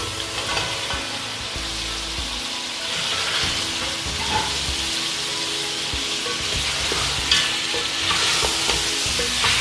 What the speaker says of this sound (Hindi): अब हम इसमें मटन ऐड करेंगे